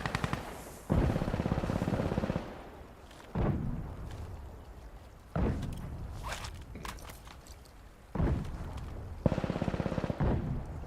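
Smoke rounds fired in the tactical shooter Insurgency Sandstorm, a series of about five heavy, booming blasts spaced a couple of seconds apart, each followed by a rumbling tail, with faint clatter between them.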